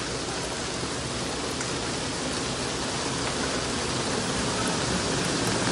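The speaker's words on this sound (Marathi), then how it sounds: "लय डेंजर पाऊस पडतोय" Heavy rain pours down in a steady, dense hiss that stays at an even, loud level throughout, with no voices heard.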